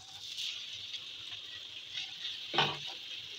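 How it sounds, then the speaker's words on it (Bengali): Onions sizzling in hot oil in a pan, a steady soft frying hiss with a brief louder crackle burst near the end, close and without talk. "তেল দিয়ে দিচ্ছি এবার। এখন দিয়ে দেবো পেঁয়াজগুলো।"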